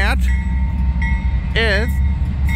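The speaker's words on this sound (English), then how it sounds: "8267 Union Pacific, Bound America are the main two locomotives." A Union Pacific train led by locomotive #6996 rumbles past nearby, its deep steady roar continuous throughout, while someone talks over it.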